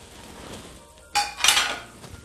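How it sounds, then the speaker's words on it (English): Shrimp in chili garlic sauce simmering in a pan, stirred with a utensil that scrapes and clinks against the metal twice at close range, over a soft low bubbling with no talk. "We'll let the shrimp simmer with the sauce."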